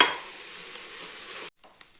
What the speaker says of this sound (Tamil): இப்போ நம்ம இந்த கோதுமை ரவை போட்டு நல்லா ஒரு கிளறிக்கலாங்க.